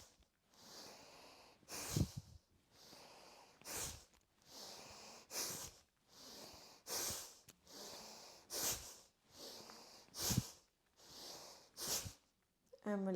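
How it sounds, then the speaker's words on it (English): Bhastrika pranayama breathing: a run of about ten forceful nasal exhales, each a sharp breathy burst with a quieter inhale between, evenly paced and close. "we'll begin remembering to inhale fully and short, sharp exhales"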